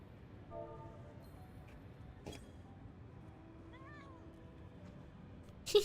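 A cat meows once in a video game, a short, faint rising-and-falling meow over quiet background ambience, with another soft meow-like call earlier and a brief loud bump at the end.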